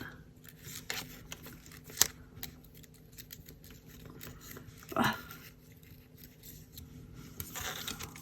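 Scissors fussy-cut around a printed design on designer paper, giving soft, scattered snips and rustling paper at low volume with a couple of sharper clicks and faint handling noise.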